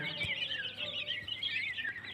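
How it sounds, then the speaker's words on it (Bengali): Japanese quail keep up a busy stream of high chirping calls close by, layered over each other without pause. "সবগুলো এগুলো হচ্ছে জাপানি কোয়েল পাখি"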